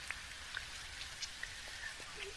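Steady rain falls in the Australian-themed life-sim game Dinkum: a continuous soft, broadband hiss with scattered light droplet taps and pings throughout, fairly quiet and even, with no voices present.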